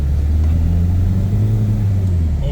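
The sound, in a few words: car engine revving with modified turbo boosting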